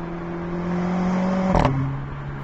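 A 2019 Mercedes-AMG A45 S idles through its AMG Performance exhaust with four tailpipes, a steady low drone that rises slightly before a brief sharp blip, then settles back to idle.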